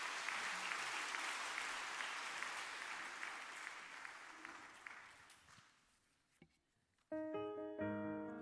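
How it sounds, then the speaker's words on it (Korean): Church congregation applauding during a Sunday service to welcome a singer, steady sustained clapping that fades out, followed by a piano starting to play. "박수로 한번 맞아 주십시오"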